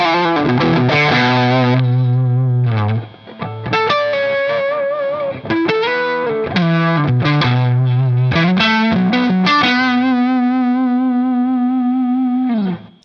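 Electric guitar on the bridge pickup through an Ernie Ball Expression Overdrive with no delay, a loud, continuous distorted lead of held bends, quick note flurries and brief gaps, ending on a long sustained note.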